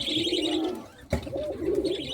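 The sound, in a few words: pigeons cooing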